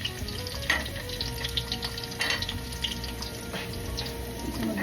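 Chopped onions added to garlic already sautéing in a pan for ginataang langka, a steady close sizzle with a few stirring clinks and scrapes, no voices.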